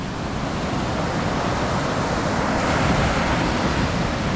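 Waves break on a steep beach, a loud, continuous roar of surf mixed with wind noise on the microphone, steady and close for the whole stretch.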